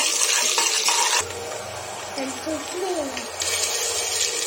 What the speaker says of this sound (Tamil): இப்போ நம்ம ஆனியன் போடுறோம்